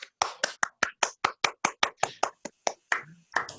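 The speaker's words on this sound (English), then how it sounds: "Let's everyone applaud" Sparse, separate handclaps from a small group of listeners after a mathematics talk on the moduli space of curves, about fifteen sharp claps spread unevenly over several seconds, close and clear with no voices.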